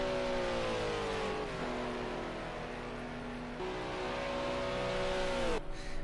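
Racing engines of GT3 cars, including a Honda GT3, at Fuji Speedway in Project Cars 2, a loud steady drone with falling pitch as gears shift, then a sharp change near the end, with no talk.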